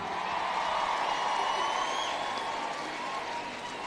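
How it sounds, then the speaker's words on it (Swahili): Applause for Jesus at a church service, a dense, steady wash of many hands clapping together, loud and continuous throughout with no talk over it. "Tupigie Yesu makofi."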